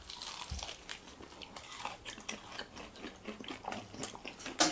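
Someone bites into crunchy, spiced fried chicken wings from Pepe Chicken, making close, crisp crunches and chewing in irregular bursts, with one sharp bite near the end.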